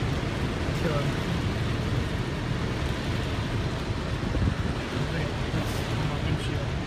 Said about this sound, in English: the rain is coming down